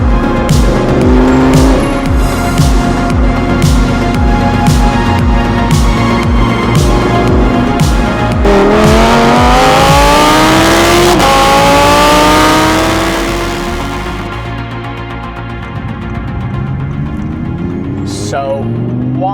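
An Audi R8 supercar drives and accelerates. Its loud, close engine note climbs through the gears with rising and falling pitch, then settles to a quieter cruising drone.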